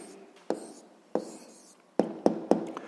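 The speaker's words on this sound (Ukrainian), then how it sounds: "Записуємо тоді відповідь." Pen or pencil writing down a sixth-grade maths answer on paper, heard as soft scratching broken by five sharp taps or strokes spaced unevenly, close and fairly quiet with no talk.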